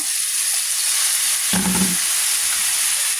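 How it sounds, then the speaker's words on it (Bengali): Chopped vegetable stems drop into a pan of fried onions and oil with a dull thump, over a constant, close sizzle that carries on afterward. "তো পেঁয়াজ ভাজা হয়ে গেছে এখন দিয়ে দিলাম কেটে রাখা ডাটা"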